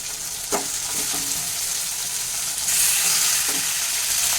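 Chicken pieces added to frying onions and quartered tomato in a pan give a steady sizzle with a few stirring scrapes and bursts, close and fairly loud, with no talking.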